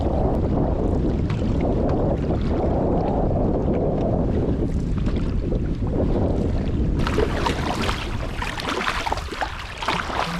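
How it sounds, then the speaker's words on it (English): Strong wind buffets the microphone in heavy, continuous gusts while sailing a canoe on water, roaring loudly throughout, with a sharper, brighter rush toward the end. "A little windier today, but there's a little bit of a tailwind"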